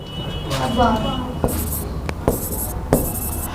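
Marker or chalk writing on a board in a classroom lesson, with short scratchy strokes under a teacher's ongoing speech.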